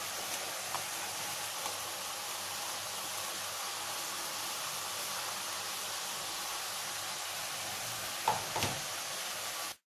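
Grated coconut and spring onion stalks being stir-fried in a pan, a steady hiss and soft sizzle running throughout, with a couple of brief scraping knocks near the end and no talk.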